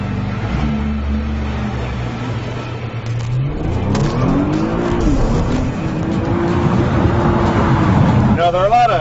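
A Nissan GT-R revs up and pulls away, its engine note climbing through the gears as it accelerates, loud and close at first, with faint talk near the end.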